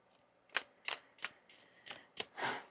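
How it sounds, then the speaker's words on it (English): Tarot cards are riffle-shuffled in a quiet room, six or seven soft snapping bursts in a loose rhythm ending in a longer flutter. "One more shuffle here."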